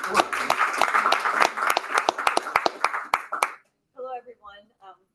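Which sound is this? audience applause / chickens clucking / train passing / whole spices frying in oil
audience applause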